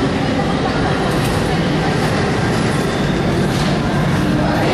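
A Lisbon Metro train runs with a loud, steady, broadband rumble and roar of wheels on rails, constant throughout with no breaks.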